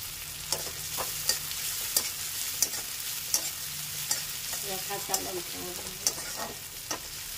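Onions sizzling in hot oil in a pan with a little turmeric, a steady quiet fry broken by regular sharp scrapes and clicks of a spoon stirring, roughly once a second.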